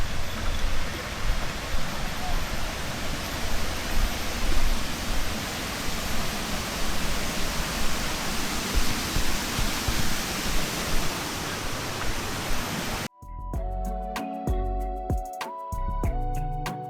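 A broad, steady roar of falling water at the Tumpak Sewu waterfall in Indonesia fills most of the clip, heard close and loud, before it cuts off abruptly near the end.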